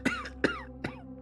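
A person gives three sharp, close coughs in quick succession, each a brief harsh burst with a short gap between.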